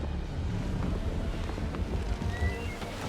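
A sailing ship under way at sea in Assassin's Creed 3, with a steady wash of wind and water rushing past the hull, with faint creaks and low rumble, continuous and fairly loud.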